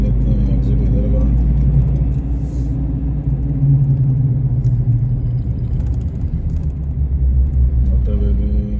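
A car heading onto a motorway after work, with a steady loud low engine and road rumble that stays constant throughout, and voices talking over it.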